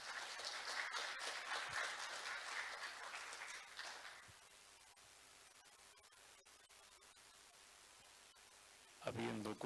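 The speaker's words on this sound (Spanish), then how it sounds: "Fuertes aplausos, por favor." Audience applause at a civil engineers' technical presentation in Tarija on Superpave asphalt binder characterization; a dense burst of clapping lasts about four seconds, then gives way to a quiet room hum before a brief sound at the end.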